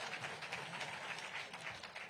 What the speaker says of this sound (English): Let's appreciate them with a hand clap.